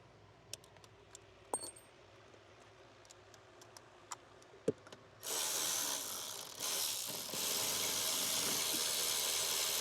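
An 8mm socket ratchet works a bolt loose on a 2011 Ford F250 during an evaporator core replacement. Scattered faint clicks and ticks come first, then a steady loud rasping ratchet run takes over partway through and continues to the end.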